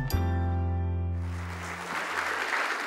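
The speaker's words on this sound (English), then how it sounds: "please welcome Mr. Amitabh Kant with a big round of applause" A crowd applauds at a CEOs' meet to welcome a speaker. A sustained musical chord is heard first, then a dense wash of clapping builds up and carries on steadily to the end.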